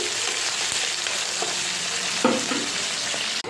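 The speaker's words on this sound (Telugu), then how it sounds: "బ్రౌన్ కలర్ వచ్చిన తర్వాత ఆనియన్స్, పచ్చిమిర్చి, కరివేపాకు వేయించుకోవాలి" Onions, green chillies and curry leaves fry in hot oil with a steady, close sizzle and crackle, broken by a few brief stirring scrapes and clatters.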